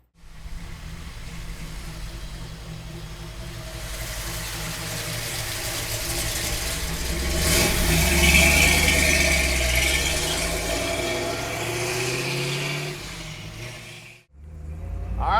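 Black 1967 Chevrolet Camaro with a big block engine and 4-speed idling, a steady deep rumble with a faint squeal, swelling briefly louder in the middle before cutting off near the end, with no talk.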